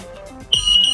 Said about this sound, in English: The way to test it is by pressing the test button